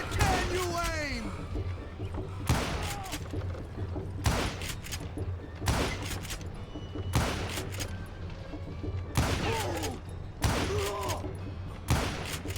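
Gunshots in Call of Juarez Gunslinger ring out as sharp, loud single blasts at irregular intervals of a second or two. Some shots have ricochet whines, and a low hum runs underneath.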